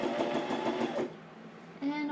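Sewing machine stitching through a paper journal page, a steady rhythmic run of needle strokes that stops after about a second, with a person speaking nearby.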